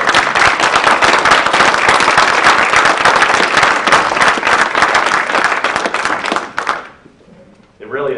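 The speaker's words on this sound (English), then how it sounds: "can we just take a moment to applaud the delegates who are here?" Loud, dense applause from an audience honoring delegates to a constitutional convention, sustained for about seven seconds before cutting off abruptly, followed by a brief quieter moment.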